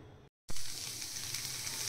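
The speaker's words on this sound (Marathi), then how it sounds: "कढई ठेवलेली, त्याच्यामध्ये ही शिजलेली हरभऱ्याची डाळ टाकून घेणार आहोत आपण" Cooked chana dal (split chickpeas) goes into a hot kadai on a gas stove and sets off a loud, steady sizzle right after a brief silence.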